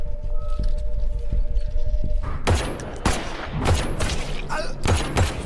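Rapid bursts of gunfire in a gangster film shootout: loud, dense volleys of shots and sharp impacts erupt after a low droning passage, with overlapping blasts continuing to the end.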